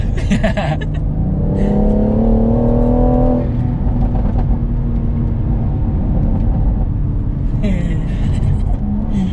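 A tuned 485bhp BMW M140i accelerates hard with exhaust pops, its engine note rising steadily and then backing off, loud and close from inside the car while people talk over it.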